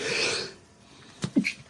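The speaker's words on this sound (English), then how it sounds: "I'm about to sneeze." A single close sneeze, a breathy inhale swelling and then fading before a sharp, abrupt snorting burst near the end, with no talk around it.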